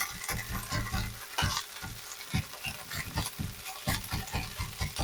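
A sharp-edged spatula chops and scrapes quiche mixture in a pan, making quick, uneven clacks and scrapes against the pan over a soft sizzle.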